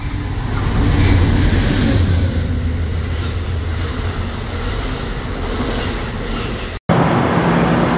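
A commuter train on a suburban line near New York pulls into a station, its steady loud rumble and rolling rail noise continuing throughout with high wheel squeal, broken by a brief cut near the end.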